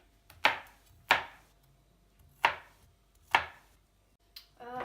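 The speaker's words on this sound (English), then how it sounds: "chop the garlic up nice and finely." A knife chops through garlic on a cutting board, four sharp separate strokes spaced out, with a quicker rattle of cuts at the end.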